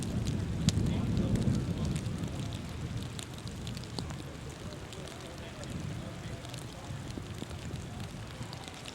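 Rain falls steadily on an outdoor disc golf course, a continuous broadband hiss and patter with low rumbling wind, even and fairly loud throughout, with no clear talk.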